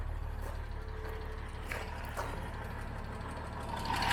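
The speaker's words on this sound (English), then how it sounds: "Slight misfire there again. Now, it's definitely not running perfectly clean." A classic car's engine idles roughly with a misfire, a steady low rumble with faint irregular stumbles and a few brief knocks, ending with a louder hiss.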